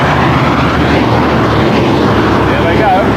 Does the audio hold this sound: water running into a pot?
no